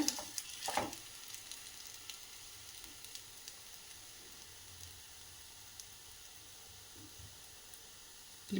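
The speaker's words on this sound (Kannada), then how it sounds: "ಮೀಡಿಯಂ ಫ್ಲೇಮಲ್ಲೇ ಇದನ್ನ ಬೇಯಿಸ್ಕೊಳ್ಳಿ" Thalipeeth flatbread fries on a pan over a medium flame, giving a soft, steady sizzle with a few sharper crackles and scrape-like clicks near the start, fairly quiet and close.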